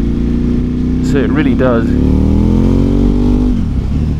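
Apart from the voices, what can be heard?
motorcycle engine revving with loud exhaust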